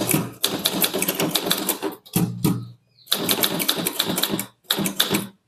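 A typewriter clatters through fast bursts of English typing practice, with short pauses between runs of close, crisp key strikes and carriage clunks. No voices are heard.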